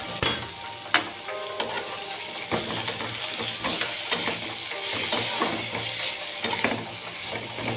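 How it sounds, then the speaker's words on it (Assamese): Ridge gourd peel frying in a pan with salt, giving a steady close sizzle and crackle with occasional clicks and stirring scrapes, and no talking. "অলপ টাইম ভাজি থাকিব যাতে কেঁচা গোন্ধটো আঁতৰি যায়।"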